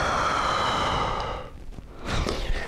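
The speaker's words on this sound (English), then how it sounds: "you're going to hold for 4 deep breaths." A slow, deep breath during a seated hamstring stretch: a long, steady exhale lasting over a second, then a brief pause and a fresh inhale, close and clearly audible with no talking.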